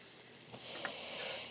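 Onion and couscous cook in a pan, giving a brief, faint and steady sizzle with a soft hiss, close up and with no talking.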